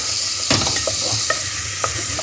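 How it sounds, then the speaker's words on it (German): Onions being stirred in a hot pan, a soft steady sizzle of roasting with a few scraping stirs and clicks of a utensil against the pan, close by, no talking. "Das kannst du jetzt mal einfach ein bisschen rühren, dass es so ein bisschen vor sich hin röstet."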